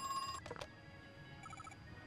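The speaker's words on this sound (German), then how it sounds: "Hier hat das Telefon auch noch geklingelt" A telephone rings in the horror video game Crow Country, a bright electronic trill in short bursts, faint and set against a quiet, eerie ambient background with no voices.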